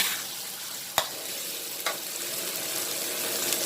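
Fried rice with chicken stir-fried in hot oil for a Thai green curry fried rice, a steady close sizzle running throughout with two sharp spatula scrapes against the pan.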